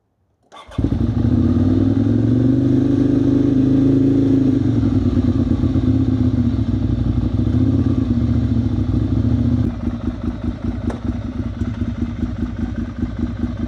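A Ducati Monster 659 motorcycle fires up at night and settles into a loud, close, steady idle. About ten seconds in, the engine note shifts lower and rougher while it keeps running.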